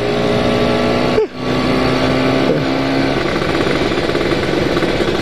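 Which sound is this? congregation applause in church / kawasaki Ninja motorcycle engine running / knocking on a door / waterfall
kawasaki Ninja motorcycle engine running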